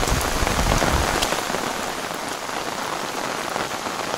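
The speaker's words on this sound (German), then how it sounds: "Aber den Regen haben wir eh gebraucht." Rain drums steadily on a camping tarp overhead during a downpour, a dense close patter of drops with a few louder individual hits and no voices.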